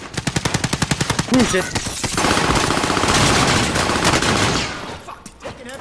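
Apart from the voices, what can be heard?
heavy gunfire in a video game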